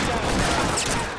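A dense, rapid burst of gunfire rattles through a shootout in the video game L.A. Noire, loud and continuous for a moment.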